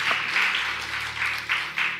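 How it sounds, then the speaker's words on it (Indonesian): Congregation applauding during an Indonesian Sunday church service, a steady wash of clapping at moderate volume that swells in several short bursts over two seconds, with no talking over it. "Beri tepuk tangan dulu buat Tuhan."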